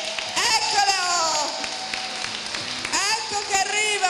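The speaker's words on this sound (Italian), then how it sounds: "E allora un applauso grande!" Applause from guests at a community association party, a broad wash of clapping mixed with crowd chatter and children's voices, with a short whistle-like tone weaving over it.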